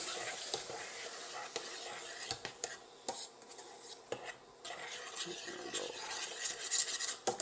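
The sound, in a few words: stirring chopped fresh tomatoes in a pot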